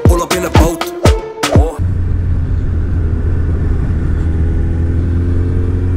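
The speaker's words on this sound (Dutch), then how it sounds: "Maar ik zit op de motor, eenmans, met mijn helm op." A motorcycle ridden by a lone helmeted rider, its engine rumbling in a steady, loud drone after a few sharp revving bursts at the start, with road and wind noise blended in.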